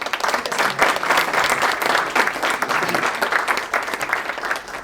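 An audience at a Hindi poetry recital claps steadily in sustained, fairly loud applause, with no voices standing out over the noise.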